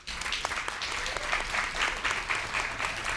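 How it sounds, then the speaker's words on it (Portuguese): An audience at a literary fair event gives a warm round of applause for sign language interpreters, steady clapping rising and swelling across the few seconds, moderately loud and fairly close. "Eu queria pedir uma salva de palmas para eles."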